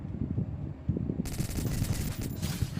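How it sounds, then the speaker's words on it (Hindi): Rapid bursts of Uzi gunfire in a solo-versus-squad battle royale shooter game, crackling in fast repeated volleys at moderate loudness over steady game background noise. "तो अब देखो यहाँ से वो फायर कर रहा है"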